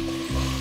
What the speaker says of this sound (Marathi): लगेच कांदा टाकूया.